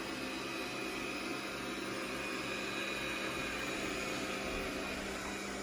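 A Lydsto W2 self-cleaning robot vacuum and mop runs for the first time, giving off a steady, even motor whine and airy suction hiss with a faint tonal hum. The sound stays constant and close throughout, with no talk.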